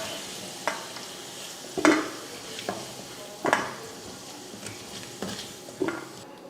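Potatoes fry in hot oil with a steady sizzle, while a utensil stirs them in the pan about six times, each stroke a sharp scrape and clink against the pan.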